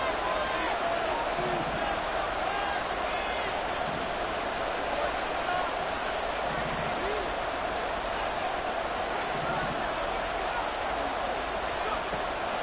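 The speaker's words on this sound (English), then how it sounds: "This crowd turning up the decibel level." A football stadium crowd roars steadily during a third-down play, a dense, continuous wash of cheering noise that never lets up, with a commentator talking over it.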